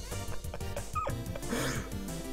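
Video-game dogs in Undertale sniff and whimper in a rapid run of short yips and whines, synthesized and close, with no talk.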